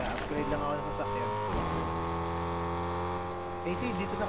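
A vehicle engine hums in Fortnite, a steady tonal drone that dips in pitch once midway, moderately loud and continuous, with faint voices mixed in.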